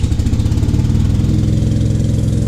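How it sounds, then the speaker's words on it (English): An air compressor runs close and loud with a steady, rapidly pulsing mechanical drone that holds an even rhythm the whole time, with no talking. "That compressor is awesome."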